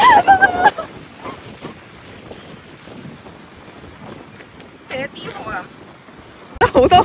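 Strong wind on the Dragon's Back hiking trail on Hong Kong Island buffets the microphone in loud, rough gusts at the start and end, with a quieter, breezy stretch in between and a voice briefly audible.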